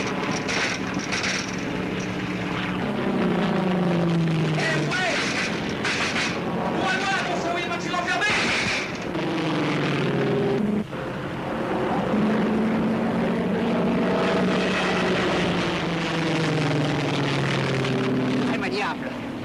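Propeller airplane engine drones steadily through the whole stretch in a radio drama, loud and continuous, with voices talking over the droning hum.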